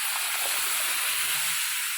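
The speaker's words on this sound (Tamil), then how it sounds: "இப்போ வந்து அரைச்சதெல்லாம் ஊற்றியாச்சு" Ground pirandai paste poured into a hot pan, giving a steady loud hiss and sizzle throughout.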